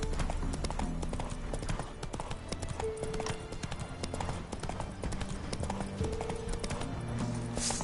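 Hooves of the horse Roach clip-clopping in a fast galloping rhythm in The Witcher 3, a continuous loud patter with game ambience underneath.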